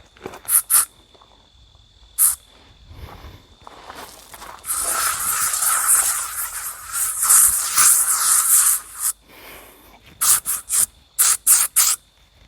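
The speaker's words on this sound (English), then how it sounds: "Ready for a little bug spray ASMR?" Insect spray hissing from an aerosol can in sharp short bursts, followed by a longer sustained spray of several seconds and more quick squirts at the end, close and loud with no talking.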